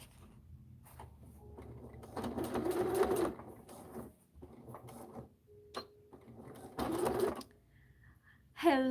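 A Janome sewing machine runs in a quiet sewing room in short stitching bursts with pauses between them, followed by a couple of electronic beeps near the end.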